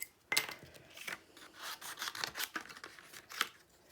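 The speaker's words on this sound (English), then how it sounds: "I'm going to just cut that bit off now" Paper being cut off for card making, a string of close crisp snips and rustling rubs, starting with a sharp cut and continuing in uneven bursts throughout.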